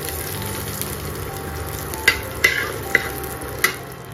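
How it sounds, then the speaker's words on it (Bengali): Chopped garlic fries with cumin in a pan, a soft steady sizzle broken by a few sharp scrapes and clicks of stirring near the end. "এবার এর মধ্যে কুচিয়ে রাখা আমি রসুন কুচিগুলো দিয়ে দেব। দিয়ে সুন্দর করে লাল লাল করে একটু ভেজে নেব।"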